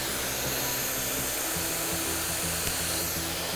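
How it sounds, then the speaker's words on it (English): Blow dryer running steadily up close on hair being stretched for a silk press, a loud continuous airy whoosh with a low motor hum and slight pitch shifts. "I stretch the hair, and I let my blow dryer do the work."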